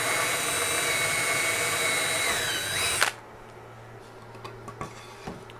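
A power drill whines steadily for about three seconds while drilling through a wooden board, then cuts off abruptly, leaving quiet with a few faint clicks and knocks.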